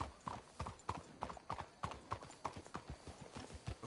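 Horse hooves clip-clopping in a steady rhythm inside a video game, a run of even, moderately loud hoofbeats with faint voices in the background.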